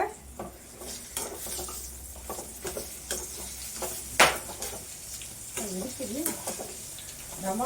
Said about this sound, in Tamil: காஞ்ச மிளகா கொஞ்சம் கலர் மாறாமல் நீங்கள் வறுத்துக்கோங்க